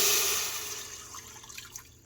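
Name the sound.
pouring chicken broth into Instant Pot to deglaze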